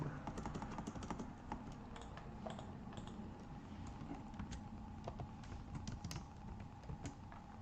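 Someone types an address on a computer keyboard, producing a rapid, irregular run of light key clicks over a quiet room background, fairly close and without any talking.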